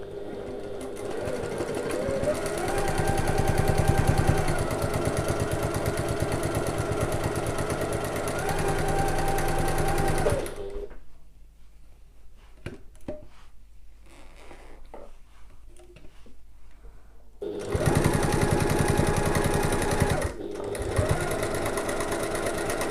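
A sewing machine stitches a quarter-inch seam along a quilt top in long steady runs with a fast, even motor whir. It stops for several seconds, leaving near silence with a few small clicks, then starts sewing again near the end.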